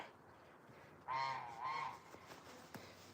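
A goose gives two loud, nasal honks close by at a beehive, followed by a few faint clicks and taps against a quiet background.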